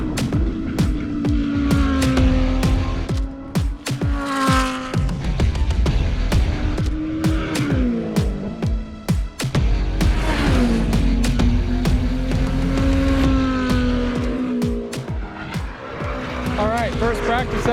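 Loud race car engines roaring and shifting pitch as cars speed past on a track during a practice session in the Middle East, continuous and close.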